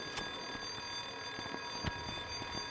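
Alarm blaring inside the first-person shooter Cold Winter, a steady electronic tone held throughout with faint footsteps and thuds beneath it, moderately quiet and without any voices.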